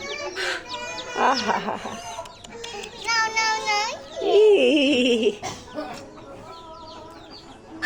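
Chickens clucking nearby, with loud hen calls and a crow-like cry that rise and fall over several seconds, while an adult laughs and someone talks over them.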